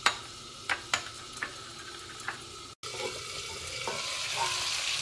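Chicken pieces fry in a pan with crushed red chili and other spices. Sharp clinks and taps of utensils come first, then a brief cut, then a steady, fairly loud sizzle.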